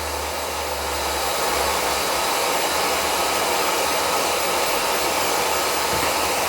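A hair dryer blows a steady, loud, continuous roar while drying a miniature poodle's coat during grooming, alone with no speech.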